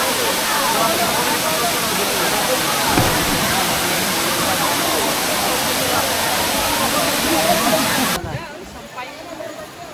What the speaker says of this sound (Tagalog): Ito pala yung Enchanted River ng South. Ang Daranac Falls.